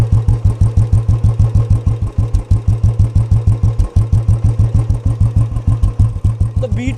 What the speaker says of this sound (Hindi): तो सबसे पहले सुनते हैं बाइक की बीट कि कैसी आ रही है।